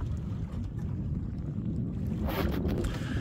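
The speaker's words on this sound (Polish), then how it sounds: "Mamy wiatr koło 7-8 węzłów" Steady wind of about 7-8 knots rushes over open sea, a constant low roar with a brief hiss of spray toward the end; no voices.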